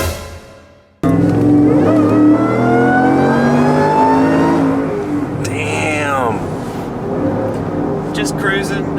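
Loud, close roar of a 5.0L V8 Ford F150 accelerating hard on a dyno, its engine note climbing steadily after a sudden start and then easing off, with brief chirps near the end.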